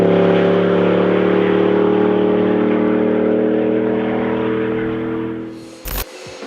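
A deep, steady exhaust drone from a Chevrolet Silverado/GMC Sierra 1500 5.3L V8 with an aftermarket exhaust, idling loudly with a throaty rumble, then fading near the end before a brief sharp knock.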